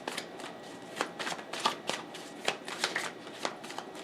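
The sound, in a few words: shuffling tarot cards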